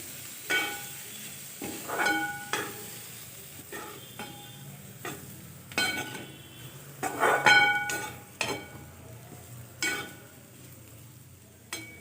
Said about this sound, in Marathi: आणि जे उकडलेले बटाटे आहेत ते पण यामध्ये टाकते मिक्स करून घ्यायचं आहे पूर्णपणे